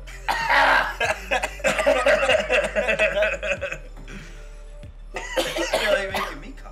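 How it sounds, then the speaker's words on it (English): A person coughs in several rough bursts over most of the moment, loud and close, with a short quiet gap before a final round of coughing and throat clearing, during a casual gaming session of Hotline Miami. "You're like making me cough."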